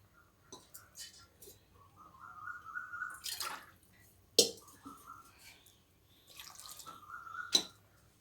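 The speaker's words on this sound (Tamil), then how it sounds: "கொஞ்சமாக தண்ணி ஒரு ஊற்றிடுறேன்" A little water poured into a pot of papaya curry, short splashing pours with metallic clinks of the vessel, several brief bursts with quiet gaps between them.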